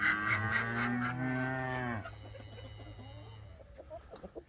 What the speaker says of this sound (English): What are you guys mooing about?